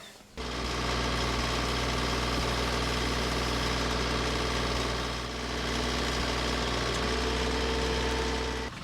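A tractor engine runs nearby at a steady, loud idle while a hydraulic hose is being hooked up, a constant droning rumble with a slight dip midway and no voices.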